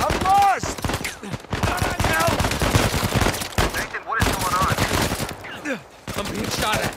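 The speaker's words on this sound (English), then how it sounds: "I'm being shot at." Gunfire cracks in dense bursts at the player in the video game Uncharted 4, close and loud, with voices talking over the shooting.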